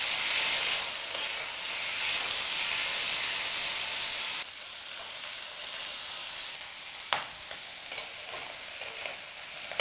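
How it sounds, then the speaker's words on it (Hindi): Small prawns (chingri) fry in hot oil with a steady hiss and crackle that drops slightly partway through, marked by a few sharp clicks of a stirring spoon and no voices. "तेल गरम हो गया, अभी हम इसमें चिंगरी डाल देंगे। इसको थोड़ा टाइम फ्राई करेंगे।"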